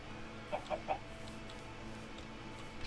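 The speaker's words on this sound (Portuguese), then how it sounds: "Matar essas galinhas." Minecraft chickens give three short clucks in quick succession, soft and mid-distance against a quiet game ambience.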